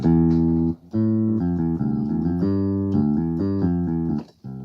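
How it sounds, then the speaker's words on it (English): A Yamaha keyboard's vintage pick bass voice, a synth bass patch with a plucked, picked-bass character, plays a short melodic line of sustained notes, loud and close, with no voices. "instead of selecting that, I'll just select vintage pick, which sounds like this."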